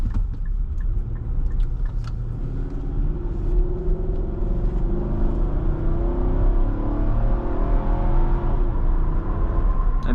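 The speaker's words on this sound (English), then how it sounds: "this accelerates pretty quick as well" A 2023 Infiniti QX80 SUV accelerating, heard from inside as a steady, loud engine rumble with a rising whir that climbs in pitch as speed builds, continuous throughout with no talking.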